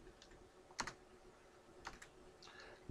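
Computer keyboard typing in a quiet room: a few sparse, isolated clusters of key clicks separated by pauses, close and fairly soft, with no voices.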